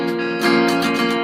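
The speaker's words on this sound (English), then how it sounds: "Now we're doing the bottom 4 string chords that sound like this right here." A guitar, in intermediate practice, strums inside four-string chords in quick, bright, ringing strokes, close and full, with no voices.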